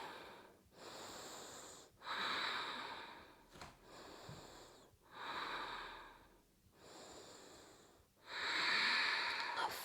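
Heavy rhythmic breathing held through a yoga warrior two pose, with long loud breaths in and out in slow alternation, close and clear, no talk over it.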